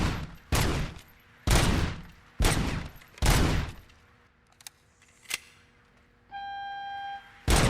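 Loud gunshots from a video game, Robocop: Rogue City, arrive as four heavy blasts spaced about a second apart, each with a booming tail. A quieter shot follows, then a sustained electronic tone closes the passage.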